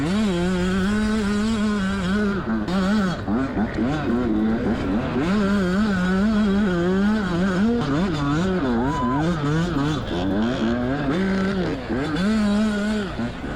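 Yamaha YZ85 youth dirt bike racing a GNCC event in Florida, recorded by a GoPro mounted on the bike. The engine revs and drops in constant, loud, rising and falling bursts up close throughout.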